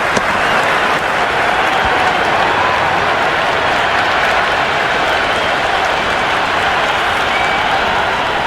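A large stadium crowd in the cricket video game Cricket 26 cheers and applauds continuously, a dense, loud wash of noise with no breaks.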